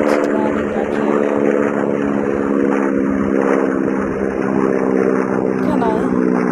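A steady, droning propeller aircraft engine hums continuously through an emergency landing in a Hawaii flight game, loud and unbroken, with a voice talking over it.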